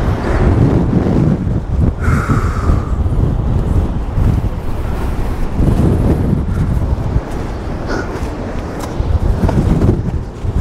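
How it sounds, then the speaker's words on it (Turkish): Strong wind buffeting a microphone on rocky coastal ground near Cape Town, a constant loud roaring rumble with gusty surges and no voices. "Öyle bir rüzgar var ki şu anda uçacağım ya."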